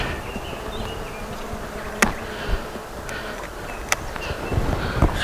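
Bees buzzing around an open beehive, a steady close drone of many insects with a few sharp clicks and knocks of handling the hive, and no talk.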